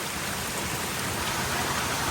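Heavy monsoon rain pouring down in a village, a dense, loud, continuous roar of drops hitting surfaces with no break.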